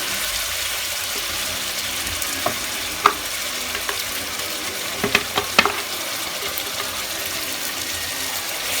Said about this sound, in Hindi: ये डालकर अब हम इसको 5 से 10 मिनट के लिए भून लेंगे मीडियम फ्लेम पर।